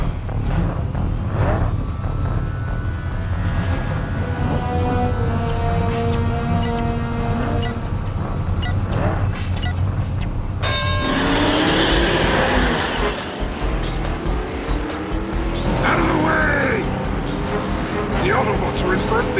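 Animated race cars rev, start and speed along a track, engines roaring loudly with passing whooshes and tire squeals, broken by a voice speaking over them.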